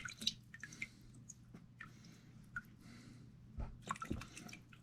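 Water dripping from freshly rinsed ginseng roots, a scatter of small, faint drips and soft wet squishes at close range over a low steady background hum, with no talking.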